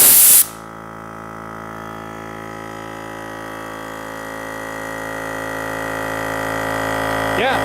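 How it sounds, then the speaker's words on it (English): A loud, brief hiss of air bursts from the pressure relief valve on a Viair 400c compressor tank installed in a Suzuki Samurai, then the compressor motor hums steadily on its own, slowly rising in loudness. "I'm going to just pull this pressure relief valve down here."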